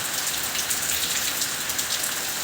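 Steady rain falls on a farm in Punjab in late August, a dense continuous hiss with no talk over it.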